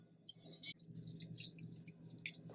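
Chicken broth poured over crumbly cornbread and gizzard dressing in a pan, a soft continuous wet trickle and splatter with a few brief drips, close and fairly quiet, no talking.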